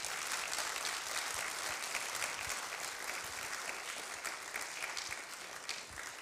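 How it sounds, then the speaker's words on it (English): A church congregation breaks into dense, continuous applause for newly invited elders, a full, steady wash of clapping filling the room without pause. "So let's give them a round of applause."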